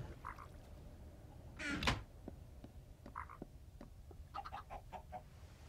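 Soft, scattered clucking from chickens in Minecraft sits over a low hum, with one louder squawk early on and more clucks near the end.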